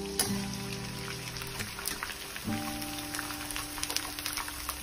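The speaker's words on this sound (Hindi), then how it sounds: "अब मैं गोंद को तल लूंगी जिसके मैंने छोटे छोटे टुकड़े कर लिए हैं" Small pieces of gond (edible gum) frying in hot ghee, a soft, steady crackling sizzle with scattered light pops, quiet and alone.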